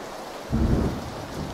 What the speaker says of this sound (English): that lightning was loud